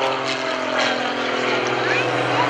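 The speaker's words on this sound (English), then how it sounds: "Here's Gary Ward with the MX-2" An MX-2 aerobatic propeller airplane performs at the Greenwood Lake airshow, its engine a steady, moderately loud drone with shifting pitch as it maneuvers, heard beneath an announcer speaking.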